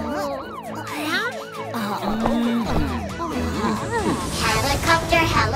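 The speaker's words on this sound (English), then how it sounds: "Super-duper ambulance!" A wailing cartoon ambulance siren rises and falls repeatedly alongside playful toy-like tones and chatter, bright and up close.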